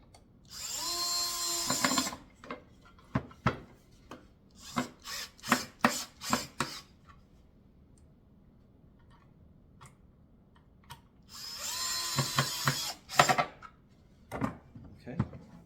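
Power screwdriver with a Phillips bit driving screws into a natural wood kids chair, two sustained whirring bursts at start and end with a string of short clicks and taps between, close and fairly loud.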